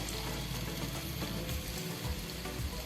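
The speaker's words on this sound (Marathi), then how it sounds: "तेल गरम झालं की त्याच्यामध्ये एक मी कांदा कट करून घेतलाय तो घालायचा आहे" Chopped onion fries in hot oil with a continuous low, even sizzle and bubbling that stays quiet and steady throughout, with no voices.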